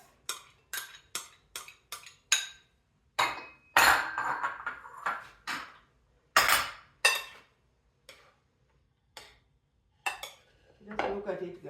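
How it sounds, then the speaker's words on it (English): Chopped tomatoes and green onions tumble into a salad bowl for an avocado and tomato salad, a string of separate dull clatters and clinks of food and utensils against the dish, close and fairly crisp, with pauses between drops. "Now we are going to add our tomatoes, our green onions"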